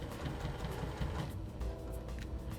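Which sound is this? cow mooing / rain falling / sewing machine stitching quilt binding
sewing machine stitching quilt binding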